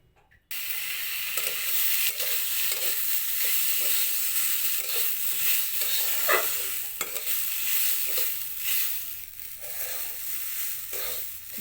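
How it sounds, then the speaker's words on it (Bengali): Washed rice fries in half a spoon of ghee in a wok, a steady close sizzle broken by repeated scraping stirs of a spoon against the pan. "কড়াইয়ের মধ্যে অল্প হাফ চামচ ঘি দিয়ে আর ধুয়ে রাখা চালটা ভেজে নেব"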